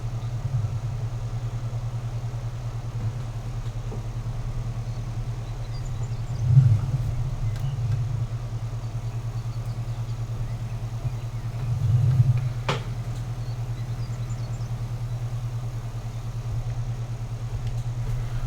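Farm vehicle engine idling in the Farming Simulator 19 video game, a steady low droning hum running throughout with a couple of brief swells, alone without talk.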